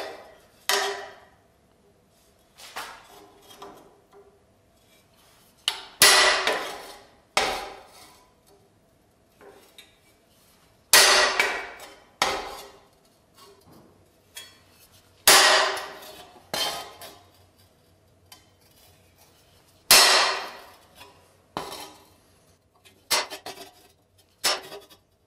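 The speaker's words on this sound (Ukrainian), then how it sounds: "Щоб просверлити дірки в забральнику, спочатку робимо кернером таке набивання" A hammer drives a center punch into a steel visor for a medieval hundsgugel helmet, marking spots for drilling: sharp, ringing metallic strikes come in irregular single blows and short pairs, close and loud, with no voices.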